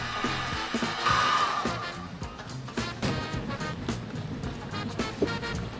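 A heat gun warming the adhesive under a car spoiler on a Q50: a continuous close blowing whir with faint handling noises underneath.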